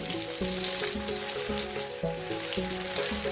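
Onions fry in oil in a paella pan, a bright continuous sizzle with a low rhythmic tapping underneath, close and steady for a few seconds without speech.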